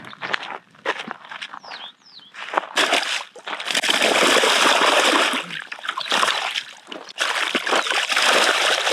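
A fishing net is cast into water on a family fishing trip near Hyderabad, with brief splashes and sloshing, shuffling steps on the bank, and a loud rushing spray of water that comes back in bursts.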